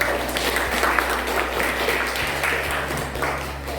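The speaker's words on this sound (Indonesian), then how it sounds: "Oke, tepuk tangan." A class of students applauds in a classroom, a steady wash of many hands clapping for a few seconds at moderate volume, with a low electrical hum running underneath.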